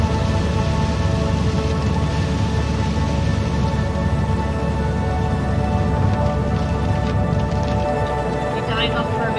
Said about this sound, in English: We died off for a bit and then it absolutely pours.